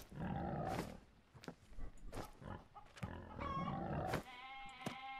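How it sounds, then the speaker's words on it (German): Sheep in the survival video game No One Survived bleat loudly and repeatedly in several close, drawn-out cries separated by short pauses. "oh mein Gott, diese Schafe."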